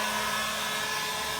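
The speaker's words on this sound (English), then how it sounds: "hot air gun" A hot air gun blows steadily over a freshly resurfaced kitchen sink to pop air bubbles in the coating, giving a continuous, fairly loud broadband whoosh with a faint motor whine and no talking.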